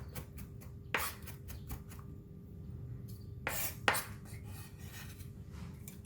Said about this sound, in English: And for the garlic, I'm going to really mince it.